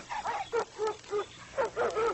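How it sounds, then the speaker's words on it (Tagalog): Cartoon dogs barking in a Filipino-dubbed Cinderella animated episode, a series of separate yapping barks in two quick bursts with short gaps, fairly close and alone without talk. "saan galing ang mga aso yan?"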